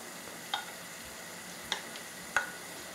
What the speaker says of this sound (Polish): I wszystko delikatnie przemieszam.